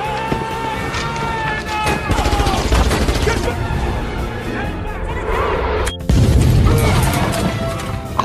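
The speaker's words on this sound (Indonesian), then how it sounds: "berpamitan kepada Salt dan menembaki pengawal Presiden dengan barbar sebelum meledakkan diri di sana." A film action scene has gunfire aimed at a president's guards, followed by an explosion. Rapid bursts of shots and crashing impacts run densely throughout, with a heavy low boom late in the scene, all loud and mixed with other action noise.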